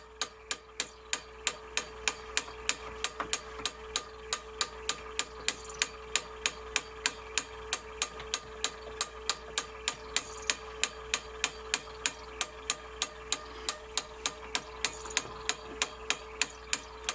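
A Sony MDP 333 laser disc player mechanism running, giving a steady, evenly spaced mechanical clicking about three times a second over a constant low hum, with no talk throughout.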